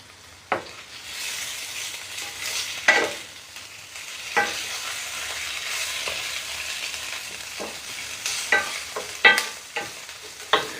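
Food for cannelloni and stuffed eggplant sizzles quietly in a frying pan while a utensil stirs it, with intermittent scraping clacks against the pan scattered over the gentle frying hiss.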